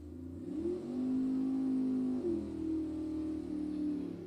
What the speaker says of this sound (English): Look at this dragster on the right side, man.